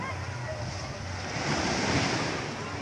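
Sea waves at a beach resort wash steadily onshore, a broad continuous surf roar mixed with wind buffeting the microphone, swelling slightly midway through, with no clear talk.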